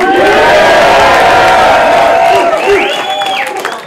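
A crowd at a rap battle in Calgary cheers and shouts loudly and steadily, with a voice carrying over the noise before it fades slightly.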